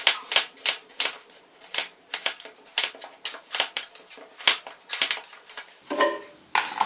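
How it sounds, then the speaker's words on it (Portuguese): Rapid irregular crisp chops and scrapes, close and fairly quiet, as a knife cuts potatoes on a board. "Primeiramente, vamos cortar as batatas."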